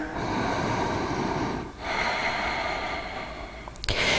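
Deep, audible breaths drawn in and pushed out through the nose during a power yoga Navasana boat pose, close and fairly loud, two long breathing cycles with a brief pause between.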